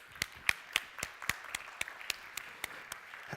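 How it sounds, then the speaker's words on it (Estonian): Applause greets the next speaker at an Estonian education talk. The claps are thin and evenly spaced, about a dozen sharp hand claps in a steady rhythm in a quiet room. "see oli väga tore aplaus, millega te mind soojalt tervitasite"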